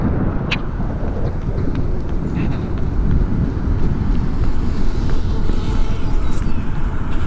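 Gusty wind buffets the microphone of a runner outdoors, making a steady, loud low rumble that fills the whole stretch with no clear gaps.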